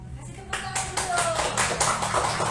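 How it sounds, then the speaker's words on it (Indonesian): An audience claps for a guest at a live podcast talk event in Malang. The clapping starts suddenly after half a second and continues as a loud, steady patter, with voices faintly underneath. "Kasih tepuk tangan dulu."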